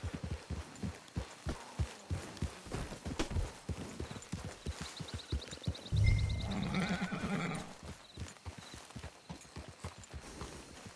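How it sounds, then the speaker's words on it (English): A horse in the Red Dead Online video game clip-clops along in a steady walking rhythm, then lets out a short neigh partway through, with quiet ambient background behind the hoofbeats. "It's your horse."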